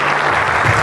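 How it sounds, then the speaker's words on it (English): Loud, dense applause from a keynote audience honoring active duty and former military members, a continuous wash of clapping heard briefly and up close. "All right, everyone give them a round of applause."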